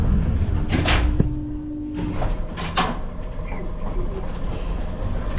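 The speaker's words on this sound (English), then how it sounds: "Doors closing." Lift doors slide shut in a modern elevator, with a couple of short swishing rushes and a brief thud, heard close over a noisy background hum.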